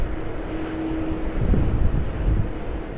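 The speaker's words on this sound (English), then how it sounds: "And our first departure will be a King Air off of runway 25." A Beechcraft King Air departs from runway 25 at Sydney Airport, its engines a steady, broad roar heard from a distance that swells slightly midway, with wind rumble and no voices.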